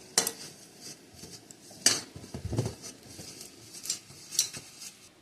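Spices being mixed in a bowl before fish is added: a few sharp clinks and scrapes of a utensil against the bowl, spaced irregularly over faint, soft stirring noise, with no voices.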